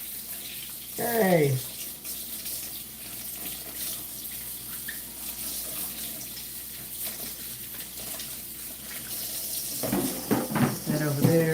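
Kitchen tap water runs steadily into a sink while celery is being washed, a continuous splashing hiss that grows louder and more broken near the end, with a brief spoken word.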